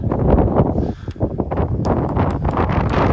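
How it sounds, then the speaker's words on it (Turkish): Strong wind blows outdoors during a tumbler pigeon flight, buffeting the microphone with loud, continuous low rumble and rustling gusts. "Abi bugün çok, çok ters bir rüzgar esiyor ya"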